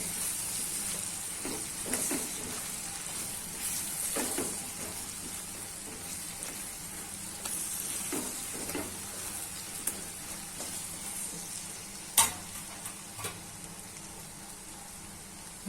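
A steady sizzle of spices and coriander-cumin powder frying, with occasional scrapes and taps of a spoon stirring in a pan, fairly quiet throughout.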